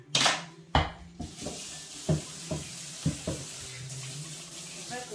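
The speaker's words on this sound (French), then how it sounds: "On rince un petit peu." Kitchen tap water rinsing dishes during preparation of a roast pork dish, opening with loud bursts of running water, then a faint trickle punctuated by several light clinks of dishes, close by, with no talk.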